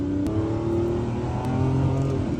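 A Lamborghini engine revving hard under acceleration at full power, a loud continuous roar with rising and shifting pitch from inside the car, briefly punctuated by two sharp gear-change clicks.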